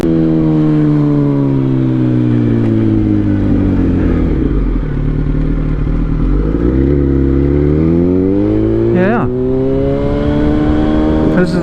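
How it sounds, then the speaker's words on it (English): Steady engine drone from a car cruising in road traffic, with pitch rising and falling through gear changes and a brief sharp sound near the end, loud and close throughout. "Traffic looks good so far."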